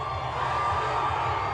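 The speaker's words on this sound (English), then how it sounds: "Oh, the crowd is going crazy." Parade crowd cheering at the Oklahoma City Thunder NBA championship celebration, a steady dense roar of shouts and whoops with children's voices mixed in, loud and continuous throughout.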